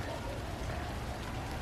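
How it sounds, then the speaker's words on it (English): Heavy monsoon storm rain pours steadily and close by, a dense, unbroken hiss of drops on surfaces with no voices. "work in this rain and this cool weather"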